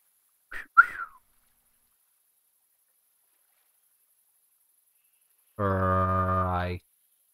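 In theHunter: Call of the Wild, a man gives a quick two-note catcall whistle early on. A long quiet gap follows, then a separate buzzy, steady tonal call sounds near the end. There is no talking.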